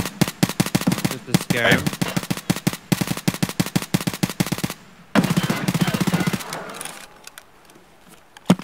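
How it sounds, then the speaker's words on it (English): Rapid bursts of video game gunfire crackle in a steady stream, loud and close, pausing briefly before another sustained volley, with someone speaking over the shooting at times. "I'm gonna set up a few shots."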